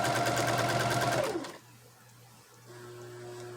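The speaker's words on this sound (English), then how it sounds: "I'm just using a straight stitch on this one." Sewing machine running a straight stitch on a pocket prayer quilt, a steady mechanical whir with a rapid rhythmic needle pulse that stops after about a second and a half, leaving low room hum.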